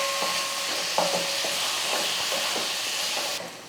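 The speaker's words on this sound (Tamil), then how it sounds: "இந்த தக்காளியெல்லாம் நல்லா வதங்கட்டும்." Onions and tomatoes sauté in a pan with salt and turmeric for chutney, giving a soft steady hiss broken by regular stirring scrapes, then dropping away at the end.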